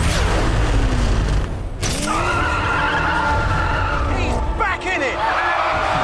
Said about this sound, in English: One of the greatest drift shots of all time here.